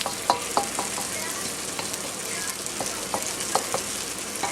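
Chicken pieces sizzle and crackle in a hot Farberware wok while being stirred, with a steady hiss broken by sharp scraping clicks of the utensil against the pan.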